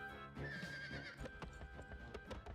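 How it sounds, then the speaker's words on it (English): Horse neighing and clip-clopping hooves in the video game Suikogaiden, a loud whinny rising over busy game music, followed by a run of hoof beats. "She got back on her horse and rode lightly down to the main road."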